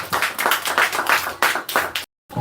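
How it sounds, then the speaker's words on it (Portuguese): A Baptist revival church congregation claps for Jesus at a Bible school term closing, with close, uneven bursts of hand claps that break off briefly into silence before resuming. "Vamos aplaudir para Jesus nessa noite."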